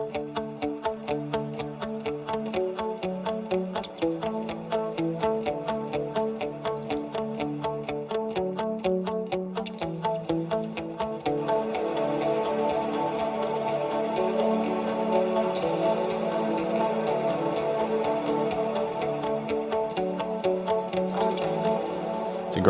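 Electric guitar played through the Neural DSP John Mayer X plugin with compressor, dream delay, studio reverb and EQ, giving a clean sustained chordal passage with a steady rhythmic pulse that grows fuller and denser partway through, with no talking.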